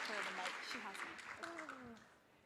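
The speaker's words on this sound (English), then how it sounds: "So can everyone give Elaine a round of applause?" Audience at a tech event's opening ceremony applauding a keynote speaker, a soft spread of clapping that fades over a couple of seconds while voices talk over it.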